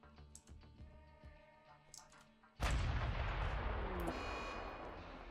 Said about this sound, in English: They are shooting at them.